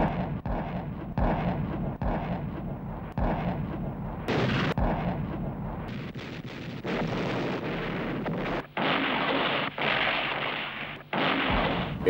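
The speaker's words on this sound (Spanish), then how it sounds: "Una demoledora barrera de artillería alemana y disparos de cohetes iluminan los cielos." German artillery barrage and rocket fire before dawn on 16 December during the Second World War: heavy, continuous rumbling booms with sharp blasts bursting out repeatedly, loud and dense throughout with no voices.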